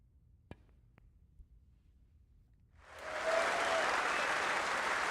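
After a couple of faint clicks and near silence, a crowd in the video game Snooker 19 breaks into loud, sustained applause at a match win that continues to the end.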